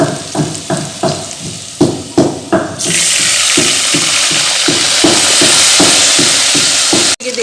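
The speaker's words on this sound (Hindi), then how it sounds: "इसमें मैं थोड़ा सा पानी डालूँगी।" Water pours steadily into a cooking pot of mustard greens (sarson ka saag), a continuous rushing splash that follows several dull rhythmic knocks and carries on nearly to the end.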